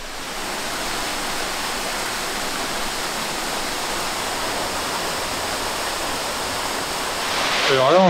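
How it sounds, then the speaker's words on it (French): A waterfall beside an old mill roars as a loud, steady broadband rush of falling water, continuous and close, with a brief swell near the end. "Alors là, on se trouve au bord d'une cascade"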